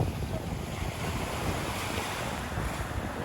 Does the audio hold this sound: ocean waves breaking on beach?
yes